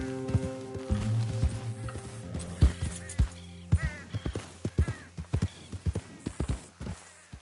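Horse hooves clip-clop on firm ground in a steady, uneven walking rhythm of sharp knocks, moderately close, under a soft background of music.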